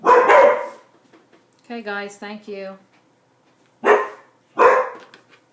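Dogs bark in short loud bursts near the start and again toward the end, with a person speaking between and over them indoors while cloth masks are being sewn.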